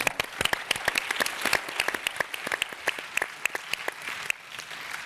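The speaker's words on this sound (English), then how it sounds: "A big round of applause for Dr. Georges Benjamin." An audience claps at a conference closing session, sharp individual hand claps standing out from the steady applause, which thins near the end.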